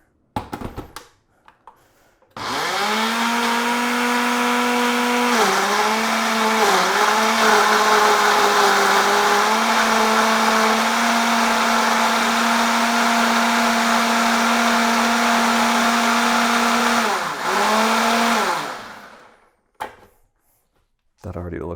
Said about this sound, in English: I got so much in here, I think I gotta blend it for a second.